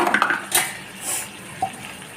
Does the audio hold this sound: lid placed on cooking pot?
yes